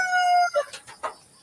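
A chicken cries out close by in one loud drawn-out call, followed by a few short, sharp clucks with brief pauses between.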